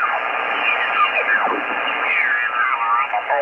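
Band-limited shortwave radio static on the 20 meter ham band, heard on an Icom IC-706MKIIG, with warbling tones and garbled sideband chatter drifting through, a steady loud hiss throughout.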